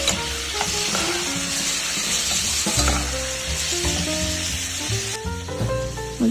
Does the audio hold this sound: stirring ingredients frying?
yes